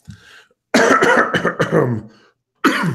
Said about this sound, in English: That was one fake cough followed by a real one.